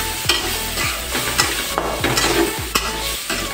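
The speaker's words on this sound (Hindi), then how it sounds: "इसमें हम दे देंगे टमाटर, ये चला गया टमाटर।" Tomatoes are tipped into frying onion and spice masala and stirred, the pan sizzling loudly while a spoon scrapes the pan in regular strokes about every half second, close up with no voices.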